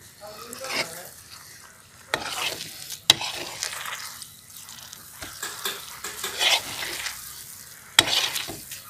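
A thick jackfruit toffee mixture is stirred in a hot pan: a low sizzle runs under repeated scraping strokes, with a few sharp clacks of the spoon against the pan.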